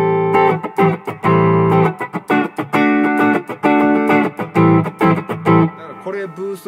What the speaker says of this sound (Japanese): これブーストにしてこっち歪み。